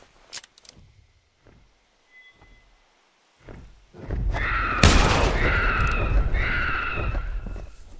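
Gunfire in the hunting video game The Hunter Primal: a few soft, sparse thumps early on, then a loud sharp shot followed by a sustained burst of noisy rumbling and rasping sound that continues to the end.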